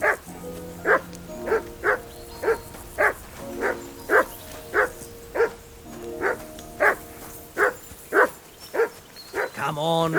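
A dog in Kingdom Come: Deliverance II barks repeatedly in a steady rhythm, about fifteen sharp woofs at mid distance, with a whine at the end and game voices faintly in the background.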